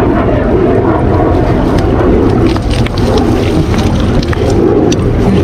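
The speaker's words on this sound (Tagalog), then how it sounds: "Ang ingay ng mga jet fighter oh." Jet fighters flying over a wide river in Taiwan, a loud, steady roaring rumble that fills about five seconds without a break, with no talking.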